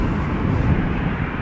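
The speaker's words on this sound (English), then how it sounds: "747 is coming." A Boeing 747 approaching Schiphol Airport makes a distant, steady jet roar that stays broad and even, with no voices over it.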